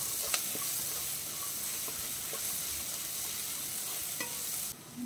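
Chopped onion sautés in a pan for pepper chicken, a steady close sizzle with occasional scrapes and taps of a stirring spoon throughout, no voices.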